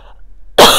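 A single quick, harsh cough bursts out abruptly after a near-silent pause, loud and close, from a person with a lingering post-COVID cough.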